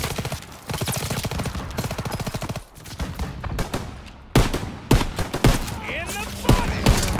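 Rapid machine gun bursts rattle in a World War II combat video game, rhythmic rapid-fire strings then scattered loud single shots and explosions, with shouting soldiers in the mix.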